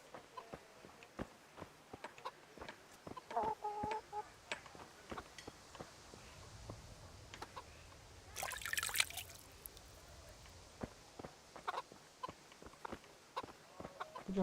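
Chickens cluck in the medieval role-playing game Kingdom Come, faint and scattered over a quiet ambient bed, with a brief louder rustle in the middle.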